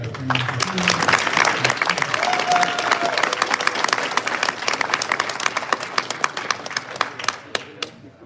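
A live podcast audience gives a big round of applause, dense clapping that gradually thins into scattered individual claps toward the end.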